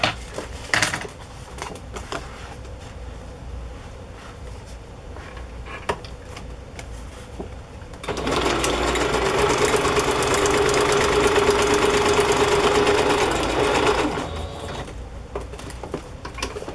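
Sewing machine zigzag-stitching lace onto a journal page: a few light taps and clicks, then a steady, close mechanical whir that runs for about six seconds and stops.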